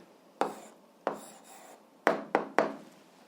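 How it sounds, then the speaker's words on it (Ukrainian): An answer to an algebra exercise is written by hand in five short, scratchy strokes, close and distinct with brief pauses between them, with no talking. "Тоді записуємо відповідь, пишемо відповідь."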